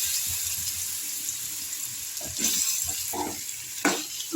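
Soft sizzling of chopped raw mango pieces frying in oil with popped mustard seeds, steady and close, with a few louder pops and crackles near the end.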